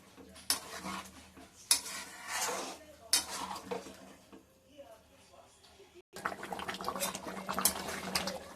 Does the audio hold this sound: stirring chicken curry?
yes